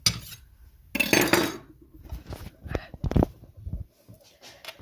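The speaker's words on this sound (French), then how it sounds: "je vais venir vider mon lave-vaisselle" Dishes being unloaded from a home kitchen dishwasher: a loud clatter of plates and cutlery followed by scattered clinks and knocks of crockery being set down, close by, with no talk.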